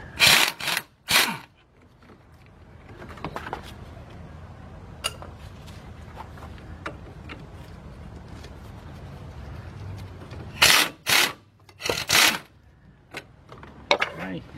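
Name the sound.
power gun loosening brake assembly bolts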